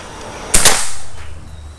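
A single sharp shot from a Predator Bocap Black Army Phantom PCP air rifle, a loud close crack with a brief hiss of air, then quiet.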